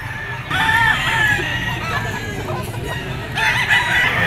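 A rooster crows loudly and close by at a pet market, with hens clucking throughout and other birds calling in the background.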